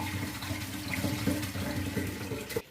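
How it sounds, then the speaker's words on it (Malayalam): Tap water runs steadily into a sink, splashing over food being rinsed, close and continuous until it stops abruptly at the end. "ഇനി നമുക്ക് അത് ഒരു തണുത്ത വെള്ളത്തിൽ നല്ലപോലെ ഒന്ന് കഴുകിയെടുക്കാം"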